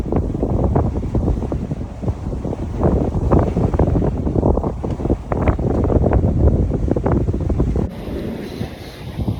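Strong wind roars and buffets the microphone continuously on a sailboat, with rushing water beneath, loud and close, cutting off sharply near the end.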